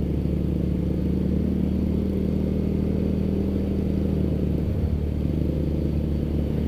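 A Yamaha Mio motorcycle engine revs steadily at close range, a constant droning hum with slight fluctuations and a brief dip near the end, running alone without voices.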